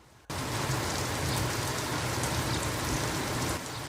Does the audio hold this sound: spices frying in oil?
no